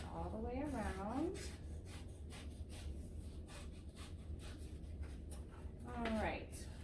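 Scissors snipping around a paper turkey shape, soft close rhythmic crunching cuts in a steady run, faint and under a voice speaking at the start and end.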